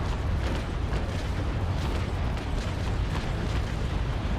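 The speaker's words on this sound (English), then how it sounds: "Fire." A naval cannon broadside fires in the Naval Action sailing-warship game, with Trincomalee frigates in battle: a dense, continuous roar of overlapping booms that fills the whole moment at steady loudness.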